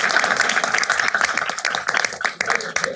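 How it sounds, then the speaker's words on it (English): Dense, sustained applause fills a city council chamber as the crowd honours a volleyball team, many hands clapping at once in a loud continuous wash with no talk over it. "Give them another round of applause,"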